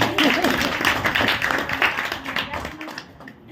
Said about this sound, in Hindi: भाई ताली तो बजा लो